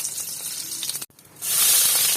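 Curry leaves dropped into hot coconut oil crackle briefly, then after a short pause break into a loud, bright, continuous sizzle, close up and without talk.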